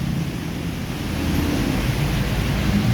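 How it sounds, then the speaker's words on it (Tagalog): Heavy rain pours in a dense, steady roar of broadband noise that stays constant and loud throughout, with no voices. "Lakas ng ulan guys!"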